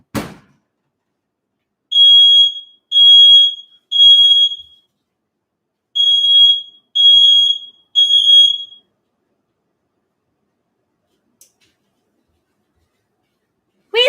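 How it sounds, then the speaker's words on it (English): A home smoke detector goes off in a kitchen while butternut squash roasts in the oven, giving two sets of three loud, evenly spaced high-pitched beeps separated by a short pause, with a brief voice at the very end. "I don't even know why the smoke detectors"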